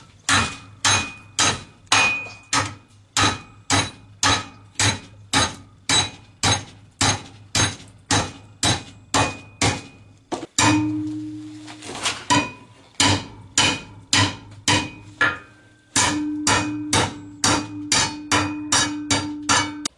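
A hammer strikes scrap sheet metal clamped in a vise, bending it square in a fast, steady run of loud ringing blows. A brief pause interrupts the run before the hammering resumes.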